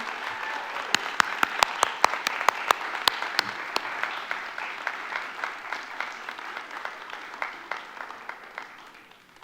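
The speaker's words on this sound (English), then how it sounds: "Please give another round of applause for our graduates." Round of applause for graduates at a commencement ceremony, a crowd clapping with a few sharp nearby claps standing out early, gradually thinning and fading toward the end.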